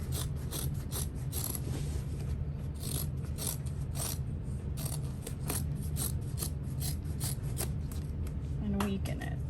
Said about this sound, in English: I'm going to trim around the curve, avoiding the bottom where those connectors are